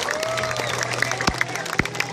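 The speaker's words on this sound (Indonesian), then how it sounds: "Kita tepuk tangan untuk mereka." Short burst of audience applause at an evening gathering, scattered claps from a crowd mixed with background voices and music.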